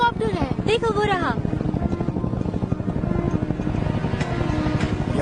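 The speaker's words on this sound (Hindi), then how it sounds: "हाँ, ये हेलीकॉप्टर है।" A helicopter's rotor beats in a steady, fast rhythm throughout a Hindi-dubbed Hollywood movie scene, with voices talking over it at the start.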